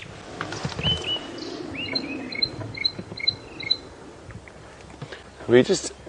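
A warbler on a wildlife safari drive gives a repeated series of high, clear chirping notes in short bursts, fairly distant in an open outdoor setting, with soft rustling and a brief low sound near the end.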